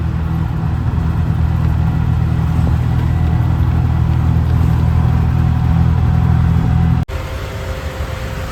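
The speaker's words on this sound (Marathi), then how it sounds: "रॉंग साईडून गाड्या आहेत बघा कंटिन्यू गाड्या" Cars and bikes passing continuously on a road, heard from an auto rickshaw near a service centre: a steady low engine and traffic rumble, loud and close, with a sharp cut near the end and no speech.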